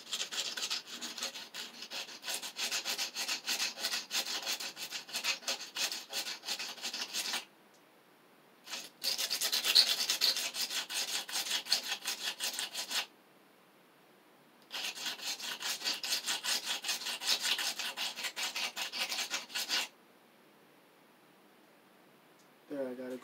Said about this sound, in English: There, I got a good sanding on the back side.